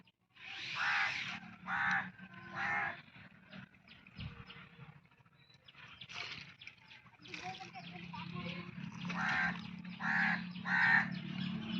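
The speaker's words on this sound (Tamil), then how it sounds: "காக்கா காக்கா கத்துது." Several crows caw outdoors around a village home, loud repeated harsh calls in uneven bursts with short pauses between them.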